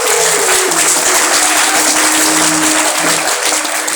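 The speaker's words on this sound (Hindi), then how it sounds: "एक बार जोरदार तालियां बजाएं" A large crowd of devotees at a religious discourse claps loudly and continuously, a dense, steady roar of applause with no pauses, close and full.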